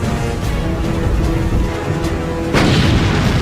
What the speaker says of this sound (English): We started now dueling with them with our 2 5-inch gun.